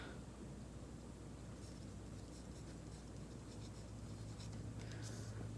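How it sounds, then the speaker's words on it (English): Soft, steady scratching of a pen or pencil writing out math information by hand, faint strokes under a constant low hiss of room noise. "So I'll write this up here with all my other information."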